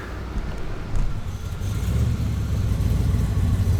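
A car arriving nearby, its medium engine rumbling low and steady, rising slightly as it approaches and holding a continuous idle-like drone with no voices.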